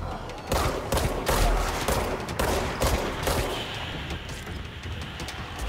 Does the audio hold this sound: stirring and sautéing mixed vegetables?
no